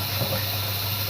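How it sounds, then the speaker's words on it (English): Water from a tap fills bottles with a steady, even rushing hiss, close and unbroken for the full moment. "I'm actually filling my water bottles first."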